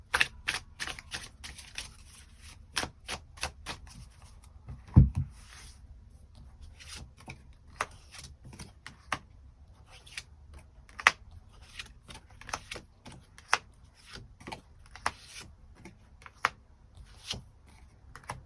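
Tarot cards are shuffled and drawn on a quiet table, with a series of crisp, scattered taps and flicks of card stock, some sharper slaps standing out against near silence.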